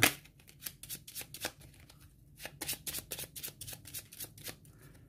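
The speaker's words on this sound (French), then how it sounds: "Faut que je remélange ma défausse d'abord." A small discard pile of game cards is shuffled by hand in a rapid series of soft, crisp riffles and snaps, close and quiet with no talking.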